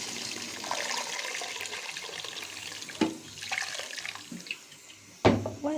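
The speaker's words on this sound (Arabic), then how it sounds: "هبتدي انزل عليها بميه سخنه بقى" Hot water poured into a pot over browned chicken, a steady splashing, gurgling pour close by with a couple of louder sloshes near the end.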